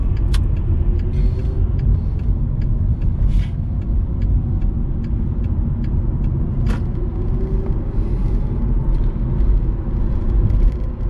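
Car cruising on the A49 motorway around 110 km/h, likely an electric car, giving a steady loud road and tire rumble from inside the cabin, with faint ticking clicks and no talk.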